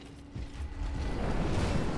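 A door mechanism in the Dark Souls mod Archthrones grinds open with a low mechanical rumble and creak that swells steadily over two seconds, fairly faint.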